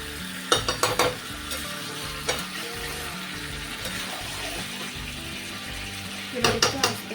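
Potatoes, chicken and spices sauté together in a pan for a chicken curry, with a steady sizzle under bursts of scraping and clinking as a spoon stirs against the metal near the start and again at the end.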